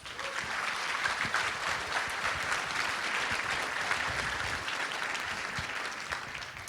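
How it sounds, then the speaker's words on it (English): Sustained audience applause at an evening senior fashion show, dense and steady clapping from a large crowd filling the whole stretch without pause. "Can we please give all of our honored guests another round of applause?"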